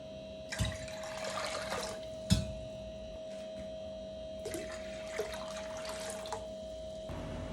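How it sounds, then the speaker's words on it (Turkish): Water being run and readied in a kitchen for boiling cabbage leaves, heard as a tap flowing with splashes and a few louder knocks against the pot or sink, close by. "Şimdi lahanayı kaynatacağımız suyu hazırlayacağım."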